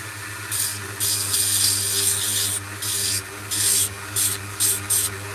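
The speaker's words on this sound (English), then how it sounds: "I'm just sanding it at the moment" Steady rasping strokes of sandpaper on wood, repeated in bursts with short pauses, close and fairly loud over a low constant hum.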